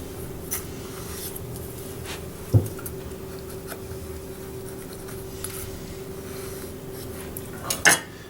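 A knife slices pear pieces on a cutting board, with a sharp knock around the middle and a couple of quick taps near the end over a faint steady hum.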